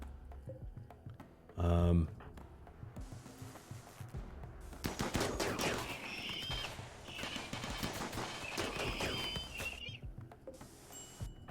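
Steel and uranium slugs fired at enemies in RimWorld, sustained bursts of mid-loud gunshots and clattering impacts after a short loud thump, with game sounds layered throughout.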